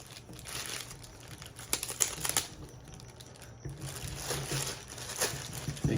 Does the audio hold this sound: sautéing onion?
no